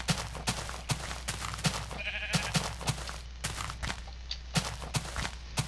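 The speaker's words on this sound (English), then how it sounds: "Another sheep." Sheep bleating in the Minecraft video game, one short bleat heard amid a steady run of close rhythmic footsteps crunching along at a walking pace, with no speech.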